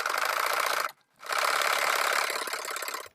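A sewing machine stitches a fitting seam into blouse fabric along a sleeve, running in two steady, rapid bursts of close mechanical whirring separated by a brief pause.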